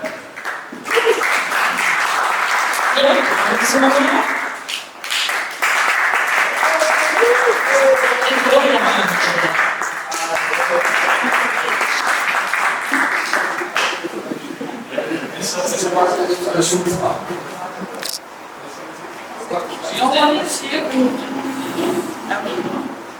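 Sustained applause from a conference audience at a Vienna Blockchain Week crypto tax panel as a panelist is introduced, a loud wash of clapping with voices and some laughter mixed in, fading and swelling over about twenty seconds.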